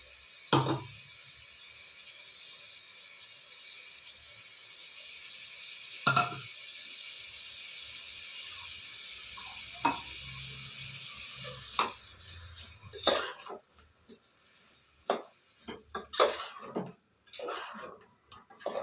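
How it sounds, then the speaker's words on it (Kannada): Ground masala frying in a pan for a cauliflower green curry: a faint, steady sizzle runs throughout, broken by occasional clinks and scrapes of a spoon against the pan that grow busier near the end, with no talking. "ಈಗ ರುಬ್ಬಿದ ಮಸಾಲೆ ಹಾಕಿ ಇದು ಇದರಲ್ಲೇ ಚೆನ್ನಾಗಿ ಫ್ರೈ ಆದರೆ ತುಂಬ ಚೆನ್ನಾಗಾಗುತ್ತೆ"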